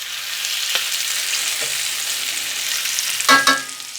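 Turkey fillets fry in browned butter, giving a continuous hiss of sizzling fat with a few soft knocks and a louder spatter burst near the end.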